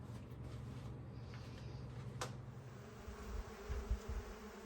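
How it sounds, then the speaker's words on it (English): Africanized bees buzz around bee feeders at a home in southern Arizona, a faint, continuous drone with a low hum and a few brief louder swells toward the end. "The bees are just starting to touch the Ultra Bee feeders."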